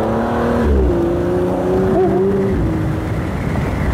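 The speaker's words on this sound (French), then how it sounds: "Et là, t'entends bien le moteur quand même." A V12 Speedster sports car engine, one of 88 built, accelerates with a steady, rising drone that climbs in pitch, loud and close, with road and wind rumble underneath.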